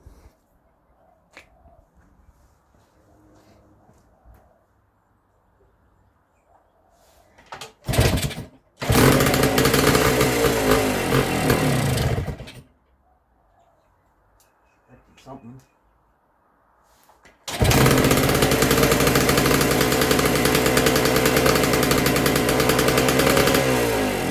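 Kawasaki KE175 motorcycle engine with a cracked exhaust, running loud and close in two long bursts separated by quiet, with a person talking in the gaps.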